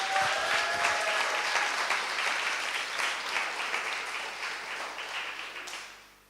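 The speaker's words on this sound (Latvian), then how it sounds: "Dod skaļus aplaustus tam kungam par šiem cilvēkiem." Church congregation applauding loudly during a service, a sustained full-room burst of clapping that slowly thins and fades toward the end, with a little talk underneath.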